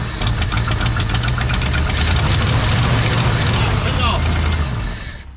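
Engine of a 1968 Ford F100 pickup truck, once abandoned, running loud and close with a rough, steady rumble and clattering knock, then fading at the end; a person speaks over it.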